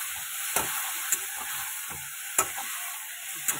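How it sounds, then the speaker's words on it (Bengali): Curry with potatoes and plantain sizzles and sputters in a pan after a little water is added for frying down, with faint scraping stirs and occasional spoon clicks, close and alone. "অল্প একটু জল দিয়ে দিচ্ছি কষানোর জন্য"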